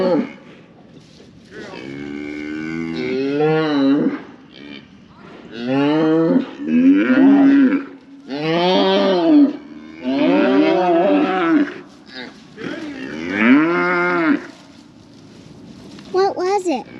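Cows on a ranch during calving season, loud repeated moos in long drawn-out calls close by, several separate bellows with short pauses between them.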